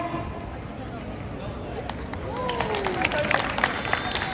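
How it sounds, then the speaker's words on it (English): A street crowd watching a knife-juggling act cheers and claps after a behind-the-back trick, a scattered burst of applause and whoops rising in the last two seconds, with a performer's voice carrying on before it. "And the crowd went wild"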